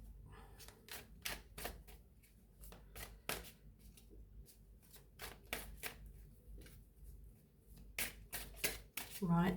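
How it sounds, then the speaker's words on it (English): Close, repeated riffle shuffles of a card deck, sharp flapping bursts separated by brief pauses, ending with a low voice. "Right, last shuffle."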